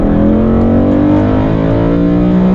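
A BMW M3 sports car engine revs loudly and continuously, its pitch climbing steadily as the throttle is held open, close up and with no talking.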